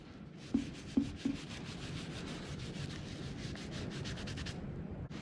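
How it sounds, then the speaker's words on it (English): Saddle soap being rubbed into leather by hand, a steady soft broadband scrubbing that runs almost without pause, with a few light taps near the start and no talking. "Anyway, that seems like an awful lot there. I think this melted upside down or something, but start rubbing it in."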